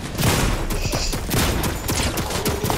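Rapid, loud gunfire in Fortnite, a shotgun among repeated overlapping shots and bursts that continue densely through the whole stretch, with no talk.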